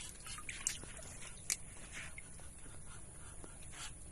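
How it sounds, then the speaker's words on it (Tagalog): Water drips from an outdoor tap at a farm field, a few faint, sparse drops falling over a quiet rural background with no talking. "Dito po kami ngayon sa Gripo."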